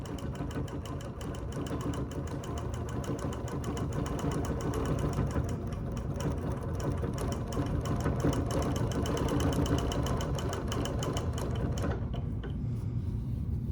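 An embroidery sewing machine stitches during ruler work on a sampler block, its rapid needle rhythm running steady and close for several seconds before easing off near the end.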